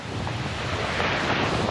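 Ocean waves wash up on a narrow strip of beach as the tide rises, a continuous rushing surf mixed with heavy wind buffeting the microphone, steady and fairly close, with no talking.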